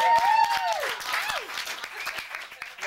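Audience applause at a magic show, a short burst of clapping with whooping voices and cheers over it, fairly close and lively.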